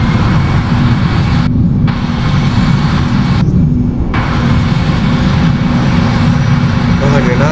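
Airbus A320 engines in the Project Flight game run at takeoff thrust, a loud steady roar with a low rumble that holds throughout and drops out for two brief moments.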